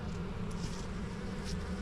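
Honey bees from a colony removal hum in a steady, close drone at low level as they are installed into comb in a quarantine yard, with no talk.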